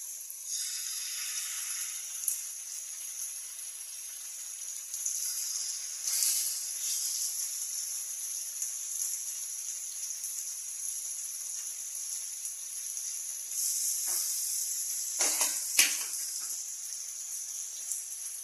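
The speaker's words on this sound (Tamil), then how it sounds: "இங்கே நம்ம மீன் பொரிச்சிக்கலாம்" Fish frying in hot oil in a home kitchen: a steady, fairly quiet sizzling hiss that flares into brighter crackles and spatters now and then, with no talking.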